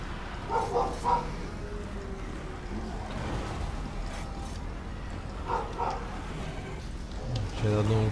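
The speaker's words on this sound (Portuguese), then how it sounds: "É sempre bom ver porque que seu cachorro tá latindo" A dog barks in a Total War: Warhammer 2 Mortal Empires battle, in two short clusters of yapping barks against a steady bed of game ambience and battle noise.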